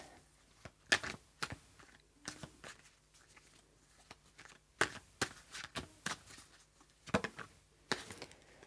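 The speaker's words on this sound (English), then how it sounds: "One more shuffle." Repeated bursts of tarot cards riffling and snapping together, several quick shuffles in a row, close and fairly quiet with no talking.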